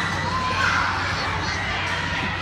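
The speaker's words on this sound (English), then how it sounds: "There's screaming, there's children" Children screaming and shouting in a crowded indoor venue with trapeze play, a dense, steady din of many young voices close around.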